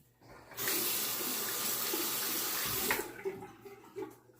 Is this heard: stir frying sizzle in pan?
no